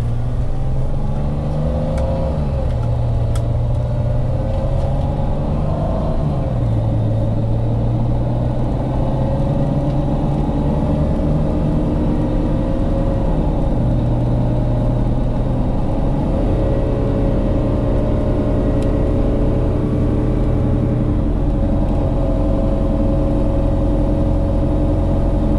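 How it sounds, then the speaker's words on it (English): A 2011 Mercedes Sprinter van with a low-turbo-boost fault accelerating on a test drive, loud steady engine drone and road rumble from inside the cab, rising in pitch as it gathers speed with a few gear-change dips, no talking. "We're just gonna try to test drive it right now and just see how it behaves."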